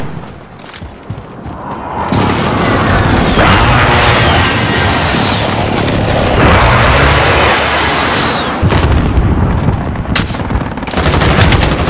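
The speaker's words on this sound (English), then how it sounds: "Friendly precision airstrike inbound." Precision airstrike in Call of Duty Warzone Resurgence: a dense, loud barrage of explosions and gunfire-like blasts rolling on almost without a break, with crashing debris and brief lulls.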